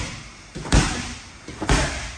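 A wrestling partner slammed down onto the mat in a front snapdown drill, two heavy thuds about a second apart, close and loud, each after a brief rustle, with no voices.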